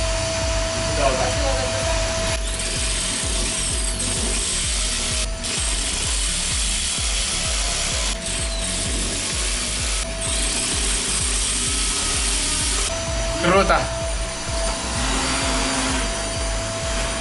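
A power drill with a 6 mm bit grinds continuously up close, with a harsh steady whir and occasional scraping. Voices are faintly heard beneath the noise.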